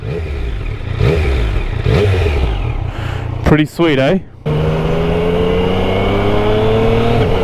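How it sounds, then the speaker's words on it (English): A 2020 Yamaha MT-09 on its stock exhaust, still in its break-in period, blips a few short revs under talk, then settles into a steady, close idle rumble while someone speaks briefly. "I can't rev this bike too much because it is in the break-in period, but have a listen."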